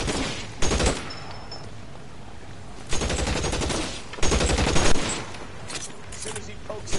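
Gunfire in L.A. Noire: loud bursts of rapid shots and sustained fusillades, arriving in several dense volleys with brief lulls between them.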